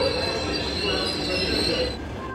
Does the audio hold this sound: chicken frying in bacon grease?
no